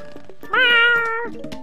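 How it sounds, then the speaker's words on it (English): Cattail plants in the video game Plants vs Zombies, a cluster of synthetic cat meows with one loud, drawn-out meow in the middle and quieter short meows around it, close and clear. "too many meows"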